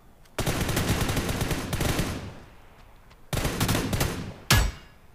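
Automatic gunfire in the mobile battle royale game PUBG New State: two long rattling bursts of rapid shots, separated by a pause, then a single sharp loud blast near the end.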